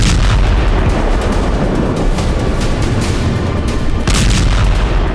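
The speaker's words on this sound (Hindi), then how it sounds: "आधी रात को इजराइल ने पश्चिमी गाजा पर मिसाइलें दागी। यहां भी एक इमारत ध्वस्त हो गई। धमाके की आवाज से पूरा इलाका थर्रा उठा।" Missile strike on a building in western Gaza at midnight, heard as a continuous loud, dense rumble of blasts and booming with sharper bursts near the start and around the four-second mark.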